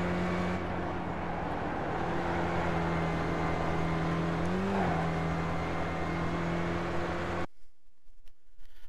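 An SRF race car engine at Lime Rock in the iRacing video game holds a steady, buzzing drone with a brief pitch rise midway, then cuts off abruptly near the end.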